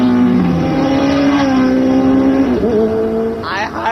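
Car traffic moving past, close and loud, with steady engine hum, rising and falling revs and a brief higher whine near the end, no voices heard.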